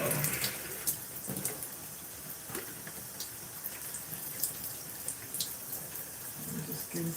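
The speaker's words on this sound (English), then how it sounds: "I'm just getting some water." Tap water runs into a bottle in a steady, hissing splash with scattered drips and small clatters, fairly quiet and continuous throughout.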